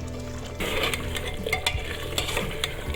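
Potato pieces stir-fry in a pan for a bakla aloo sabzi, a continuous sizzle with a spatula scraping and tapping close by, steady and without speech.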